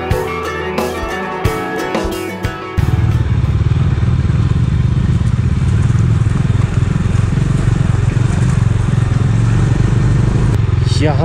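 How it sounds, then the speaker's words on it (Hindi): A motorcycle rides over the icy, glacier-lined Himalayan road at Sach Pass. After a brief mixed opening, its engine roars loud and close with a steady, rough drone and clattering texture. "ओए ओए स्लिप कर रही है बाइक"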